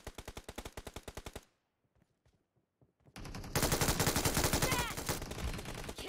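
Rapid automatic gunfire in PUBG on the Vikendi map, a burst of evenly spaced loud shots, a short near-silent gap with faint distant pops, then a dense, louder sustained volley of fire.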